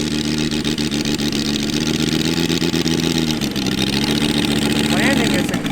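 The radial engine of a TopRc T-28 Trojan 111-inch composite RC plane runs at a steady, throaty, fairly loud drone at medium distance, and a voice talks over it.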